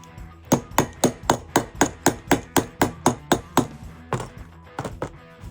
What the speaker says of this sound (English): Anything's a hammer if you hammer with it.